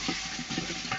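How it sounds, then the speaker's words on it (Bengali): Onions and chillies frying in a cooking pot make a soft, continuous sizzle with gentle rhythmic stirring, close but fairly quiet. "এখন এই হাঁড়িতে আমি পেঁয়াজ মরিচ ভেজে নিচ্ছি।"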